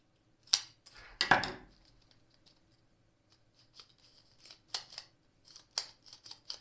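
Scissors snip photographic film in a few sharp, close cuts near the start, followed by faint rustles and light clicks of film handling while loading a developing tank.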